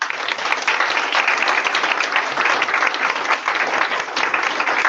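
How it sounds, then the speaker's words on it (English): Steady, full applause from an assembly audience, a dense continuous wash of clapping with no gaps and no talk on top. "massive round of applause for those guys"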